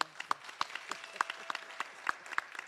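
Scattered, sparse hand claps from a small audience at a justice symposium, individual sharp claps at an uneven pace, fairly faint and without talk.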